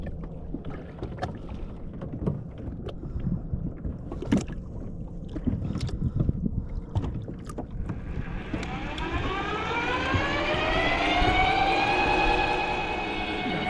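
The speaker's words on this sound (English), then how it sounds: "I think I'm actually going to re-engage the motor." A kayak's electric motor starts up on the water while fishing in Florida. Its whine begins halfway through and rises and swells over faint splashing and handling clatter.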